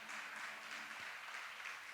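A congregation applauds during a Spanish-language church worship service, a steady wash of clapping that fills the short stretch evenly, with no words spoken over it.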